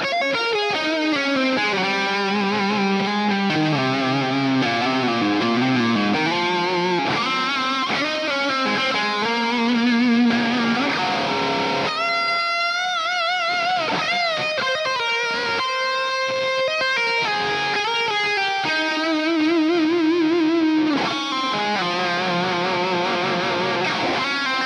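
Distorted electric guitar plays a lead through the lead solo preset of an amp simulator, with fluid sustained notes, bends and fast runs going on without a break, loud and solo with no talking.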